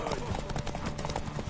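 Horse hooves clip-clop in a console video game, a quick rhythmic trot under a loud backdrop of game music and effects, with voices talking over it.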